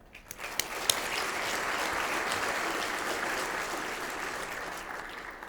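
Audience applause at a Charlotte Touchdown Club event, a sustained, even roar of many hands clapping at moderate distance, with a few sharp individual claps at the start before it settles into a broad steady wash.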